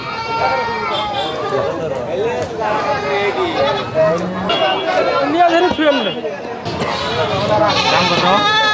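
Loud, repeated goat bleats close by amid a busy crowd of chattering voices at the Koyra livestock market in Bangladesh.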